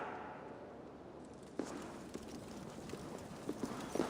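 Horse hooves in Assassin's Creed Valhalla clip-clop at a walking pace, faint and fairly distant, with an uneven rhythm over a soft ambient background.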